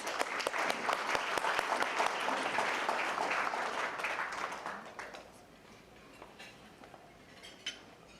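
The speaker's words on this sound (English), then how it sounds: "Let's please give a round of applause to welcome Don Hicks" An awards banquet audience applauds to welcome a speaker, full clapping for about five seconds that then fades into a quieter room with faint clinks of cutlery and dishes.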